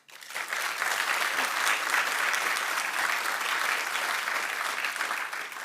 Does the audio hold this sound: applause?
yes